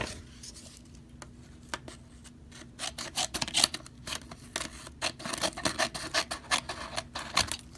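Several crisp snipping cuts, faint at first and then quicker and louder, with short rasping strokes of small Schrade pocket knife scissor blades closing.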